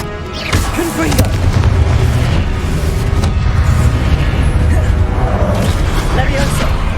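The Confringo fire spell explodes in the video game Hogwarts Legacy with a loud, deep boom and a rumbling blast that rolls on for several seconds, while a voice talks over it.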